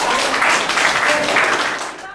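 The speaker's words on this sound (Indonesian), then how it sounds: "Berikan tepuk tangan buat kita semua." A class bursts into steady applause, many hands clapping at once in a dense, close wash that holds for a couple of seconds before tapering off.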